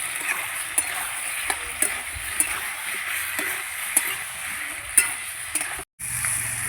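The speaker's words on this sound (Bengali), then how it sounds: "টমেটো দিয়ে আবার কিছুক্ষণ কষাবো" Vegetables, spices and raw tomato stir-fried in a pan for a fish curry with green banana and kohlrabi, a steady close sizzle broken by regular spatula knocks about once per second, briefly cut to silence near the end.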